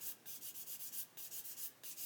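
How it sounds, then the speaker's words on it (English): Fine sandpaper rasps in quick, even back-and-forth strokes across a raised grey plastic panel on an Airfix 1/48 Sea King model kit, close and quiet. "I'm sanding away the panel and not the fuselage"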